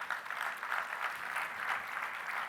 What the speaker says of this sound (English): You can clap to that.